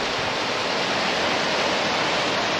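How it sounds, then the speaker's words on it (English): Water leaks through the closed wooden doors of an Erie Canal lock, making a steady, even, full-bodied rush like a small waterfall that holds constant throughout, with no voices. "you do see water coming out there as well"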